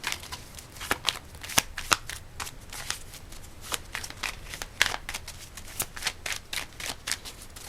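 Tarot cards are shuffled close and quiet, a quick run of crisp riffling flicks and soft slaps repeating in an irregular rhythm with no talk.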